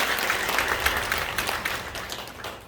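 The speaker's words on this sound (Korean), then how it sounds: "여러분 큰 박수로 다시 한번 축복해 주시길 부탁드리겠습니다" A church congregation applauds during an anniversary ordination thanksgiving service, blessing six newly ordained deaconesses; steady, moderately loud clapping from many hands fills the space without talk.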